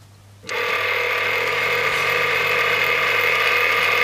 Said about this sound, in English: And here you can see the motor run. And now I do the reverse direction.